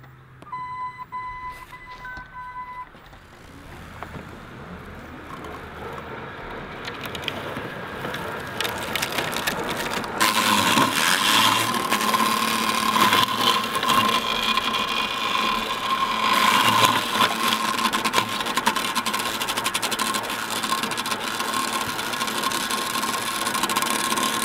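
A Worx Landroid robotic mower with its blade set low runs over pine cones outdoors, a steady motor whine with beeps at the start, then loud crunching and cracking from about ten seconds on.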